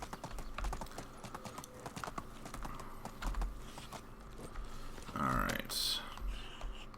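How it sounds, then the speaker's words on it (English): Donkey hooves clip-clop in a steady, fairly quiet rhythm while riding in the medieval video game Medieval Dynasty, with busy clicking and a soft background mix around it. "Especially I love riding around on my donkey."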